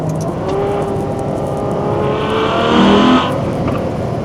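A 2020 Ferrari 812 Superfast, an 800-horsepower Italian car, accelerates with a rising engine note that climbs and swells to a brief loud peak before easing off.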